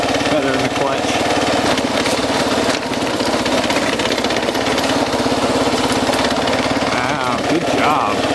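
A Kawasaki KLR 650 dual-sport motorcycle engine revs hard off-road in the Organ Mountains, a loud, steady, rattling mid-pitched drone with a clattering pulse running unbroken from start to finish.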